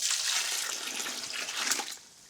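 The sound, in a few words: water being added to strained used kitty litter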